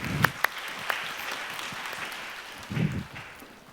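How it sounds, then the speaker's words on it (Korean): A church youth worship congregation applauds in praise, a steady wash of clapping with a few sharper claps standing out near the start and a brief rise toward the end, heard at a moderate distance. "하나님께 영광의 박수 올려드리겠습니다"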